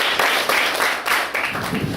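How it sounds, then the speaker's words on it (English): A short burst of applause from a classroom audience welcoming the chairperson of a school class debate, uneven clapping at moderate loudness. "Let us all welcome Alexi Valdez Flores. A round of applause for her."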